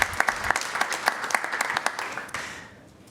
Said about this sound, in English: if everyone will please give them a round of applause for their service